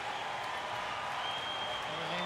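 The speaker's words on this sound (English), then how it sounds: "The home crowd already getting excited" A home crowd applauds at Rio 2016 Paralympic swimming before a men's 100 backstroke S10 heat, heard as a faint, continuous wash of clapping and crowd noise in a large pool arena.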